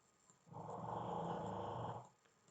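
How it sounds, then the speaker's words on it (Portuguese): A pet dog snoring indoors, a single long rumbling growl-like snore lasting about a second and a half, close and fairly quiet, with near silence before and after. "Olha que ronquinho gostoso, minha cachorra."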